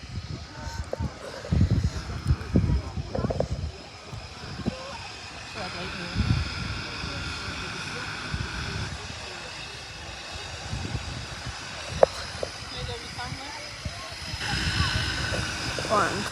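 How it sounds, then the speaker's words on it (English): A plane's engines keep running after landing at Barra airport, giving a steady, moderately faint broadband whoosh with wind-like texture, while people talk intermittently nearby. "that's turning off the engines"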